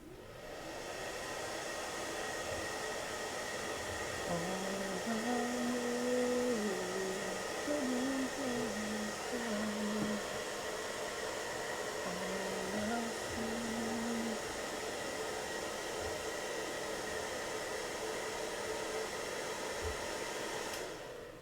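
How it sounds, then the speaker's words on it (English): A hair dryer blows steadily on freshly painted miniatures, a continuous close whooshing whir with a faint wavering tone, running alone without pause for the whole stretch. "I might just hit these guys with a bit of hairdryer"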